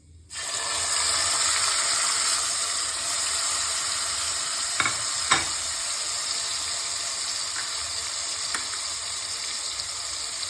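Whole dried chillies and bay leaves fry in hot oil with a spice paste, a steady sizzling hiss that starts suddenly, with a few sharp clacks of a utensil against the pan partway through.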